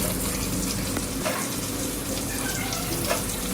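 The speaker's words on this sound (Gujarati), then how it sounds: "હવે સાથે ભરેલા કાંદા આ રીતે એક એક કરીને ઉમેરી દેવા તેલમાં" Stuffed whole onions frying in tempered oil in a pressure cooker over a low flame, giving a dense, even sizzle and hiss close by with a faint clink near the end.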